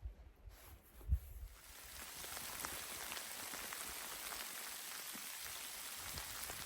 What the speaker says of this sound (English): didn't even get my backpack on and it started raining